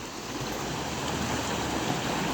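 Water gushes strongly from a large pipe near a tree into a flooded spot with submerged steps, making a continuous, even broadband rush that holds steady throughout.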